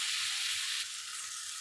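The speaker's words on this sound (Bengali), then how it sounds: "আলু দিয়ে একটু আলুর সঙ্গে মশলাটা কষাবো।" Potatoes and spice paste fry in a pan for a fish kalia, giving a steady, dense sizzle that stays fairly even throughout, close and moderately loud, with no voices.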